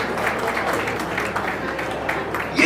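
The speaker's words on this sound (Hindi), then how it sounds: "या जोरदार ताली बजाए।" Steady, moderately loud applause from an audience at a regional Jain community convention, clapping filling the hall for a few seconds.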